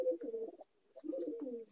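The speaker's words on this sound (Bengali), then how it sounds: "এ হচ্ছে আর একটা আমার প্রিয় পায়রা" A pet Andhra pigeon coos twice nearby, each a soft, rolling, throaty phrase of a second or less, separated by a brief pause and heard alone.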